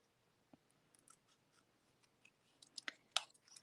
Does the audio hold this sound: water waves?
no